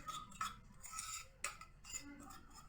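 A spoon clinks and scrapes against a bowl while mixing coconut rice paste ingredients, giving quiet, irregular metallic taps and stirring scrapes up close.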